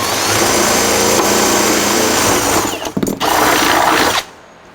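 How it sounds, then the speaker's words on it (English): A power drill bores 5/16 inch pilot holes for mounting screws on an outdoor light fixture, its motor whining loud and close almost without pause, stuttering briefly near the end before it stops and leaves near silence. "Drilling some pilot holes for the screws to mount it."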